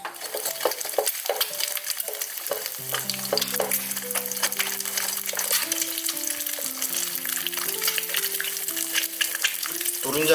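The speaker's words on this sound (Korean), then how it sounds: "계란 후라이를 기름이 많은 상태에서 튀기듯이" Eggs fry in a generous amount of oil in a pan as a topping for Thai-style stir-fried spinach over rice, giving a steady, dense sizzle and crackle throughout, with occasional clinks and stirring movements and no speech.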